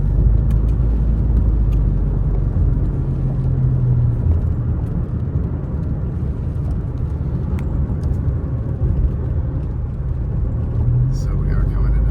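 Turbocharged four-cylinder Subaru Outback Touring XT driving during a rainstorm near Big Bear, a steady loud engine and road rumble heard from inside the car, continuous throughout.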